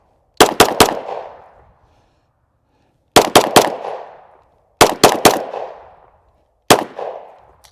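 Pistol shots from a Sig Sauer P226 X5 Legion, fired in four loud bursts of two to three rapid shots, the last a single shot, each ringing off with a short echo and no talking.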